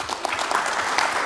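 Applause from a gathering during an Indonesian parliamentary commission hearing, steady dense clapping lasting briefly with no voices over it.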